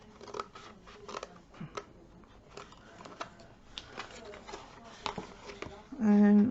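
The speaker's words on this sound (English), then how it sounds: "So we're just going to snip up there" Scissors snip through paper being cut for a ribbon holder, a scatter of small crisp cuts heard close and fairly quiet over a soft background, with a brief louder hum near the end.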